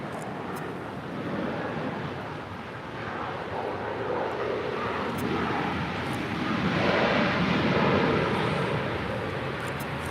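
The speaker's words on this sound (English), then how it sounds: "That is the Asiana Cargo 747-400." An Asiana Cargo Boeing 747-400 at LAX gives off a broad, steady jet roar that swells slightly toward the end, continuous and fairly strong, with no voices.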